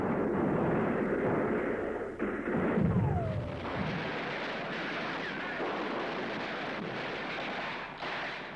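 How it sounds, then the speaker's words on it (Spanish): Deep booms of artillery cannon fire rumble across a wide, noisy outdoor space, heavy and distant, with wind-like roaring and no talking. "la artillería de Felipe Ángeles, que estaba por el rumbo del Camposanto, hacía estremecer el cielo con sus potentes cañonazos"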